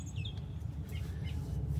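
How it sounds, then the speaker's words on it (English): Faint bird chirps scattered over a steady low outdoor rumble, a few short high calls in the distance. "Just listen behind me, you can hear the birds just chirping."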